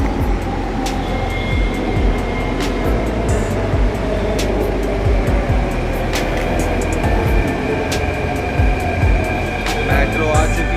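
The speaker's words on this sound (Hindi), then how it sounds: "मेट्रो आ चुकी है।" Metro train pulling into a station with a loud, continuous low rumble and rail noise and occasional high squeals, while a voice talks over it.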